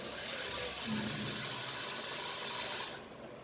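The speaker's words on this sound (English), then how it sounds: "So here goes the water." Water is poured into a pressure cooker holding dal, palak and pasta, making a steady close splashing rush that runs for about three seconds and then cuts off.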